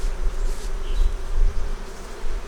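Honey bees buzz at the hive in a steady, dense drone that continues without a break, loud and close, with a low rumble under it and no voices.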